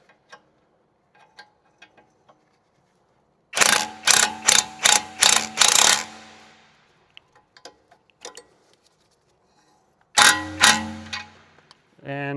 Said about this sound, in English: there's our cue for the wrench. And just choose the correct size. This is a multi-sized wrench.